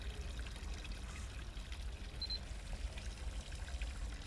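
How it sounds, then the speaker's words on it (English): Water runs steadily in the horror game Captured, a continuous splashing trickle like a small stream or pour, moderately close and unchanging throughout, with no one speaking. "This water was not running before."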